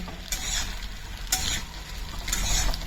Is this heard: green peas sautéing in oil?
yes